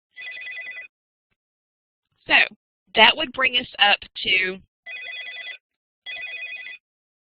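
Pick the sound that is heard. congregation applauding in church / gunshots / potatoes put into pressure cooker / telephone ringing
telephone ringing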